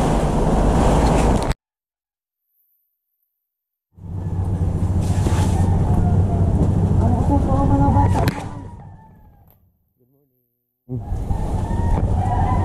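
Surf churns in loud, steady wash with wind buffeting the microphone along the sea by a mangrove area during a tropical storm high tide, broken by two silent gaps.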